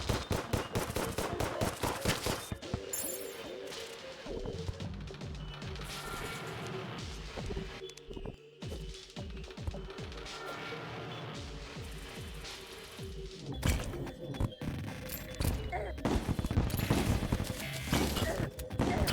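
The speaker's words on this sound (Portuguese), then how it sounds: "Tá atirando em mim, não sei de onde, mas tá atirando." Enemy fire raining on the player in Terraria, dense bursts of rapid shots and impacts stacking over game music, with a voice talking throughout.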